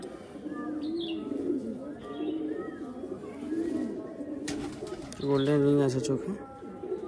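Tournament pigeons of Andhra and Madrasi breeds give soft cooing calls close by, along with some chirps and a brief flutter, while someone talks over them throughout.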